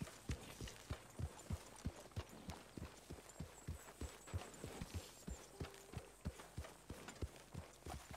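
Steady, even clip-clop of horse hooves walking at a relaxed pace in Red Dead Redemption 2, close and clear, with a faint ambient hum underneath.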